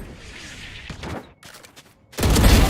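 Bursts of rapid gunfire in a Valorant match, a burst at the start, a sparse patch of quieter shots and near silence in the middle, then a loud dense volley at the end.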